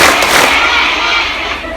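An audience at an Islamic study gathering in Tsim Sha Tsui claps twice together on command, two quick loud crowd claps followed by a lingering room wash.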